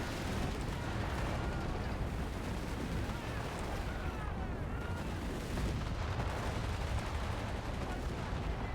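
An artillery barrage in the video game Company of Heroes 3 rumbles dense and loud without pause, with layered booms and crackling impacts blending into a continuous roar.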